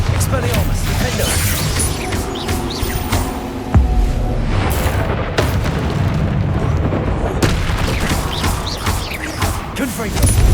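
Spell blasts and explosions from the video game Hogwarts Legacy boom in dense, overlapping bursts, while a voice shouts spell incantations over the constant clatter.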